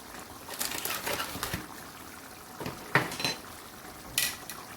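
Chicken karahi masala being stirred in a pot, with a metal spoon giving a few scattered clinks and scrapes against the sides and quiet gaps between the strokes.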